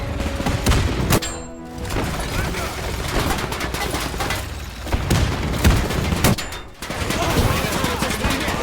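Machine gun fire crackles in the war game Men of War II, dense overlapping bursts and booming shots filling the clip, loud and continuous with two brief gaps.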